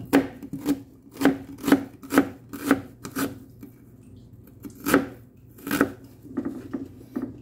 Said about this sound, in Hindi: इस प्याज में से थोड़ा सा टुकड़ा दिया, काटा है